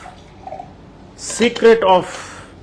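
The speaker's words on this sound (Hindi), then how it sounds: "आपने 1 चम्मच डाल दिया ग्लास में और थोड़ा सा पानी डाल दिया" Water is poured into a glass holding a spoonful of sea buckthorn juice, a brief close splash and gurgle lasting about half a second after a quiet start.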